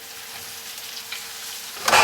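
Bell peppers tipped into a hot pan for homemade vegetable noodles, a steady soft sizzle throughout that swells into a louder burst of frying at the very end.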